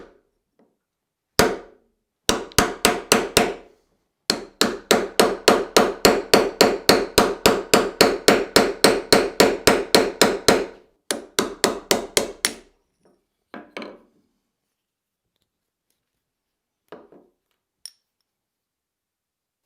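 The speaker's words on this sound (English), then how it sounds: "for the smaller ones like this, I'll just use a heavy punch. But you should be able to knock that." A heavy steel punch is hammered to drive a vintage hammer head off its handle in a workshop: about forty sharp metallic strikes in a fast, even rhythm with brief pauses, then a few scattered final taps, close and loud, no talking.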